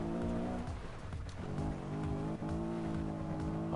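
Continuous engine drone of a car being driven in a console video game, steady and loud with game music layered over it, no talk.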